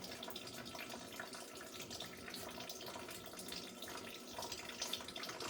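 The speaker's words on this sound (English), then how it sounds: "Coolant's still draining." Coolant drains steadily from the radiator of a Hyundai Veloster Turbo, a continuous trickling splash of liquid heard alone at moderate level throughout.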